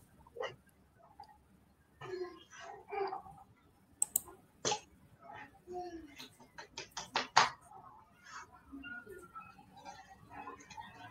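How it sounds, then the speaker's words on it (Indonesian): Keyboard typing during an online meeting about satellite weather detection, irregular close clicks and keystroke taps in bursts over a quiet background, with occasional faint other noises. "Pak Tony lagi ngetik"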